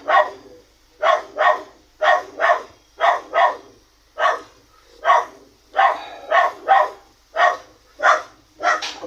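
A guard dog barks angrily in sharp paired and single bursts, a steady rapid rhythm of loud, close, harsh barks with brief pauses between them and no talk over it.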